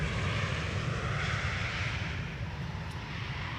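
A large airliner rolls out on Schiphol's Polderbaan runway 18R after landing, nose held high for aerodynamic braking, giving a loud steady engine roar and broad rushing wind noise that eases slightly toward the end.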